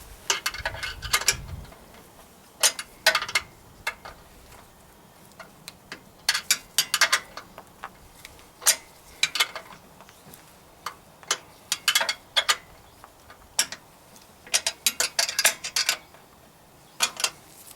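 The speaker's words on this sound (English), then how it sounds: "It's likely you're just going to have to use a hand wrench because sockets just are not going to fit in here." Hand wrench tightening nuts on an outboard jet pump, with scattered sharp metallic clicks and ratcheting taps in irregular bursts, close and fairly loud against a quiet background.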